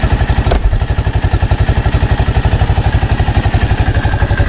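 A 1983 Honda Big Red three-wheeler with a new spark plug and a welded-up exhaust idles close by, loud and steady, its single-cylinder thumps firing in an even rapid rhythm after a short clatter at the start.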